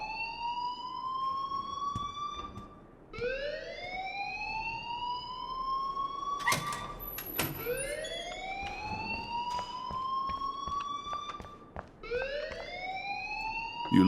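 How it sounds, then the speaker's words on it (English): A school alarm in the Life is Strange video game wails in repeated rising sweeps, each swelling upward and holding before the next begins, loud and continuous over a low background hum. "please turn off that alarm since that's your job"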